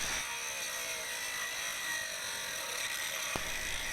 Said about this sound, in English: I'm really digging it into the metal, so that I can hear the grinder slowing down